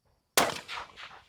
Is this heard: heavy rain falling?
no